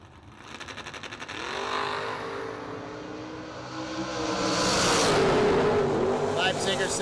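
Drag race launch of a Corvette against a Roadster: engines roar hard off the line and build into a loud, rising, sustained howl as the cars pull away, with an announcer talking over it.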